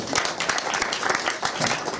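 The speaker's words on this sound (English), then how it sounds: "Now clap real fast if you remember who Woody from Toy Story was" Comedy show audience clapping fast in a quick burst, dense rapid claps filling the short stretch, moderately loud and close, with some voices mixed in.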